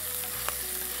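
Ingredients for a prawn kara kuzhambu stirred in a frying pan, a steady hiss of sizzling with a single quick stir scrape in the middle, close and unvoiced.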